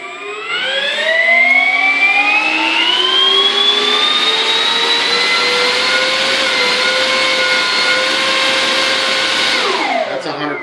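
An Avios Sea Fury RC plane's electric motor and propeller spooling up indoors to full throttle, a loud whining rising tone that holds steady for several seconds before winding down at the end.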